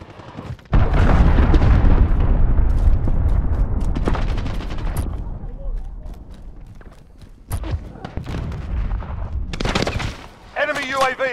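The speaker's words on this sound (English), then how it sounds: "Allied cruise missile away." Call of Duty: Modern Warfare gameplay: loud bursts of gunfire and heavy booming blasts from a cruise missile strike, in dense clusters with short pauses, and voices speaking between the shots.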